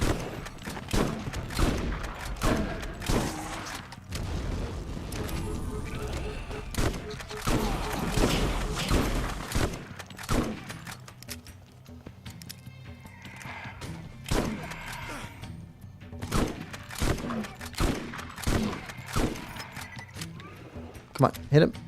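Shotgun blasts in the video game Borderlands, repeated sharp booming shots in irregular bursts, some clustered rapidly, with a voice talking over much of the gunfire.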